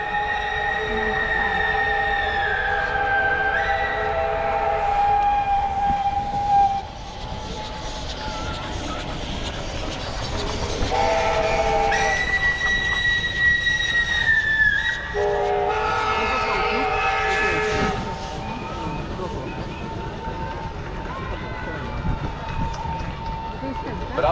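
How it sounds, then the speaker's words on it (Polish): A German-built BR52 series steam locomotive chugs and rumbles continuously, with squealing metal tones and whistle-like pitches rising above the noise, loud and close throughout. "parowóz niemieckiej konstrukcji, seria BR52"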